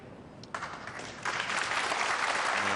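Applause from a pool match crowd starts modestly, then swells into a fuller, sustained clapping that carries on steadily, heard from a distance.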